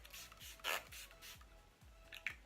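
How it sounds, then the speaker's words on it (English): Short hissing spritzes of a Smashbox Photo Finish Primer Water spray bottle misted over a face, repeated several times, close and fairly quiet. "I'm going to take my Smashbox Photo Finish Primer Water and just spray that all over"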